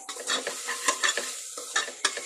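Chili, coriander and turmeric powders fry in a pan while being stirred, with a close scraping, clinking spatula rhythm over a soft sizzle and no voices.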